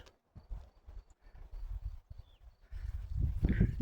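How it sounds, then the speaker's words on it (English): A cow walks along a hiking trail in Gila National Forest, its hooves clopping in an uneven rhythm of close, soft steps on dirt and rock, growing louder and busier toward the end with no talking. "found a cow friend."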